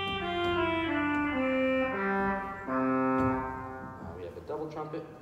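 Pedal clarion reed stop on the sanctuary pipe organ of First United Methodist Church, Brevard, NC. A bright, buzzy sequence of sustained notes steps from pitch to pitch at a strong, even level, then trails into quieter, broken tones.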